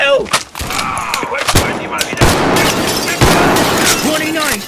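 Rapid gunshots ring out in the war game Mud and Blood, loud cracks and short bursts in quick succession with shouted voices and crashing impacts mixed in.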